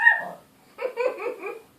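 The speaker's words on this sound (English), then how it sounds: "He's got it in his head that there's something around worth barking at." Dog barking nearby on a homestead, one short bark followed by a brief series of yelping, whining barks, clear and fairly loud with no talking.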